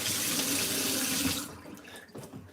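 Food is rinsed under a running kitchen tap, a loud close gush of water for about a second and a half before it cuts off, leaving faint handling clatter.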